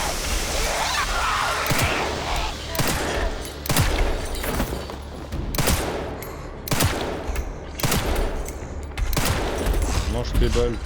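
Gunfire in the Resident Evil Requiem (Resident Evil 9) video game, repeated sharp shots in irregular bursts over a dense, noisy game soundscape throughout, loud and close.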